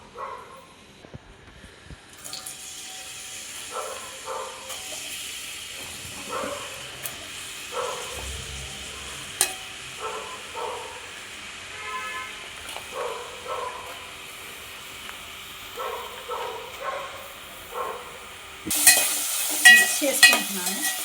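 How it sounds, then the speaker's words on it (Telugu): Onions and chillies drop into hot oil in a pan for a chicken curry, giving a soft, steady frying sizzle broken by intermittent scraping and stirring clatter, growing louder and busier near the end. "ఇప్పుడు ఆనియన్స్, చిల్లీస్ యాడ్ చేస్తాను."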